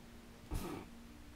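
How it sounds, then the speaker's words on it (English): A single short cat cry in The Legend of Zelda: Breath of the Wild, at Zora's Domain, rises briefly from a quiet background and fades within a fraction of a second. "Cat."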